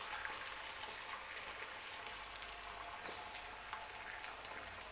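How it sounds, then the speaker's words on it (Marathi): Beaten eggs hit a hot oiled griddle for an omelette and give off a faint, even sizzle with fine crackles throughout. "हे फोडून घेतलेले जे अंडे आहेत ते मी तव्यावरती टाकून घेते"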